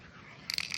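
A quick burst of metallic clicking as the mixing ball rattles inside a spray paint can, a few close, sharp knocks after a brief quiet moment.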